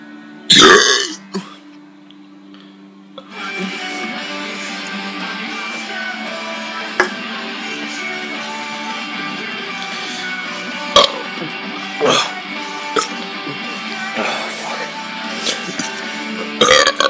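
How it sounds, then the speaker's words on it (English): A man burps loudly and at length up close: one sharp burst, then a long, drawn-out rasping belch with occasional clicks and catches. No talking. "For some reason, the burping's making me cough this time."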